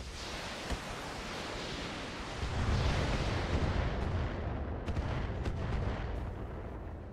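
Weapons fire hits buildings in the mech combat video game RogueTech, heard as continuous rumbling blasts and booming impacts. The din swells louder midway, and a few sharp cracks come through near the end.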